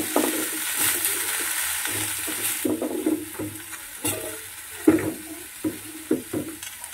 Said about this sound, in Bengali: এবার ওলকপিগুলোকেও আরও 2 মিনিটের মতো আমি ভেজে নেব